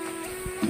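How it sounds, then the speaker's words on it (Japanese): A Snow Peak electric fan running at a car camping site, a steady close motor hum with a constant tonal whine and soft airy rush. "スノーピークの扇風機"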